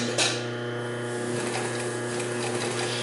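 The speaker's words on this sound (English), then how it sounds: "The motor's loud, the machine runs really quietly." A Singer 31-15 industrial sewing machine runs with a loud motor, giving a steady mechanical hum and whir that continues evenly throughout, close and alone with no talking.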